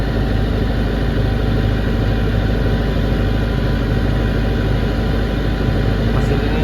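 A 40 kVA diesel generator engine running under heavy load near 59 amperes: a steady, loud, unbroken drone with a constant mechanical hum close by, and no voices.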